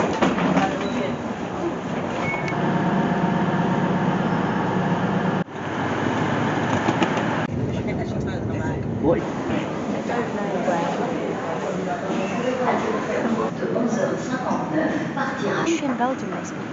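A train rumbles past at a station in Europe in the early morning, a steady rattling roll with clickety-clack under people talking nearby.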